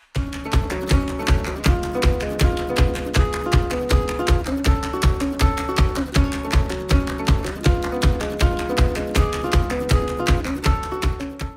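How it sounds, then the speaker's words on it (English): Nylon string guitar strings slapped percussively in a steady rhythmic pattern, low and loud, set under a busy full-band rock mix with sustained harmonic tones throughout. "like a percussive sound of the strings sort of being slapped like this"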